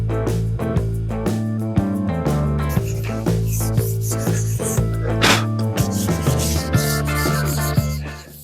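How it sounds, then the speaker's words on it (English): Steady rhythmic dry sanding of a plastic headlight with 600-grit sandpaper rasps back and forth, close up, a repeated scraping that continues throughout without talking. "I'm going to do that dry sanding with the 600"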